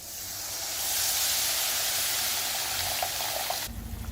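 Tamarind water, dissolved from a lemon-sized lump, poured into a hot pan of fenugreek curry gives a loud, steady steamy hiss and sizzle that builds over a second, holds, then cuts off abruptly near the end, leaving quieter bubbling.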